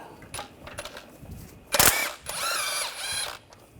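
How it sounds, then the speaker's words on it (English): Ratchet wrench loosening a bolt on a Honda Pilot V6 engine during timing belt work, a few quick clicks followed by a sharp clunk and a longer run of ratcheting, close and moderately loud. "Before we put the covers on, we're just going to take this bolt out."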